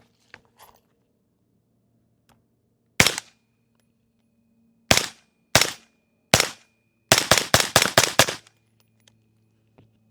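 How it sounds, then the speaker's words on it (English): Suppressed 5.56 rifle fired through a SilencerCo Velos LBP suppressor: a single shot, then three spaced shots, then a rapid string of about six in quick succession, each a sharp, loud crack with a short tail over a quiet outdoor background. "So let's get a couple more shots in."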